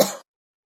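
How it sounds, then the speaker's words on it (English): A single short, sharp cough, close and fairly loud, cutting off abruptly into silence. "I'm going to cough."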